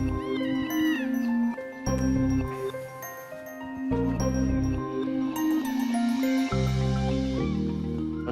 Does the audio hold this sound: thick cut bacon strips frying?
no